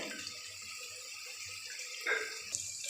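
Water splashing and trickling in a bowl as tamarind is dissolved by hand for a fish curry, a soft, close sloshing with a few brief louder splashes, no voice.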